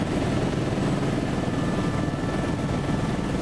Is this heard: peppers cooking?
no